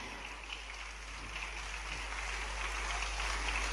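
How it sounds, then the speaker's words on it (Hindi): Audience applause at a live government launch event in Madhya Pradesh, welcoming the dignitaries on stage; a dense, steady wash of clapping that swells slightly toward the end, moderately distant and without talk. "आपकी भरपूर तालियों के साथ हम स्वागत करते हैं"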